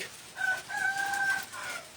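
A rooster in a village in Isan, Thailand, gives a single crow, a wavering call of about a second that sounds moderately close, over a soft background.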